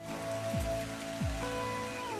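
Heavy rain pours at night as a steady, close, continuous wash of drops on hard surfaces, with a faint tonal hum underneath and no voices.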